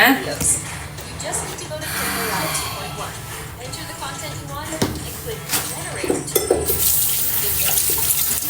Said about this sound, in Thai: ล้างหน้าดีกว่านะ